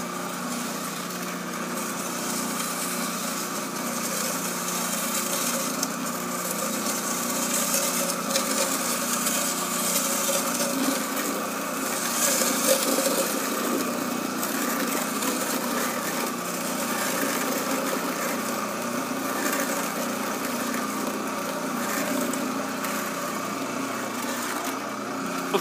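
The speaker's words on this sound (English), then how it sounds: "Of course, we're just mixing sand right now." A homemade cement mixer built from a 5 gallon bucket churns sand, a steady motor drone with a continuous gritty rumble that stays even and close for the whole stretch, with no talking.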